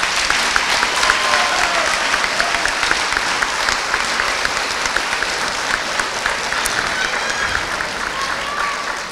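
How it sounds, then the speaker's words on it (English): Steady crowd applause at a high school underclassmen awards ceremony, with many hands clapping continuously throughout and a faint murmur of voices mixed beneath. "If you would give these ladies and gentlemen a round of applause"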